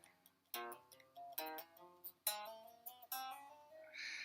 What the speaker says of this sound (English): the hammer-on and pull-off version, which would sound like this.